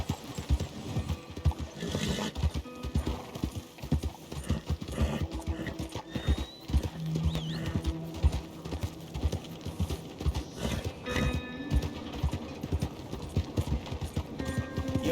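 Horse hooves clip-clop in a quick uneven rhythm in Red Dead Redemption 2, close and fairly loud, with a short whinny partway through and faint ambient sounds underneath.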